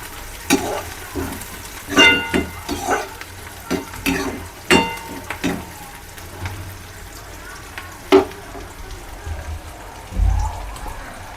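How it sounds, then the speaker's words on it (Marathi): Onion and green chili sauté in a pan, a faint steady sizzle broken by sharp stirring scrapes and clinks at irregular intervals, close by, with occasional soft talk. "मग मिक्स करून घेतलं की आपलं कांदा आणि मिरची मस्त परतून घ्यायची।"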